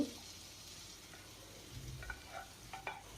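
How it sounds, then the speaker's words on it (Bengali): Fried bottle gourd pieces tipped into cooked-down masala in a pan, giving a faint, steady sizzle with soft stirring scrapes and a few light clinks toward the end, close by and quiet. "আর এখন দিতে হবে এখানে ভেজে রাখা লাউগুলো।"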